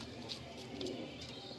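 Pigeons in a breeding loft coo softly and faintly in brief murmurs.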